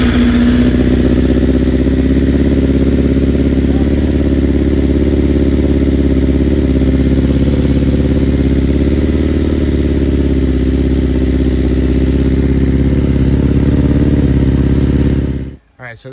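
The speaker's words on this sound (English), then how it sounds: "And I'm going to start the bike up. And we'll see how it sounds when it starts." A 2020 BMW S1000RR sport bike, warm from riding, running at a steady loud close idle with a deep even engine drone throughout, cutting off abruptly at the end.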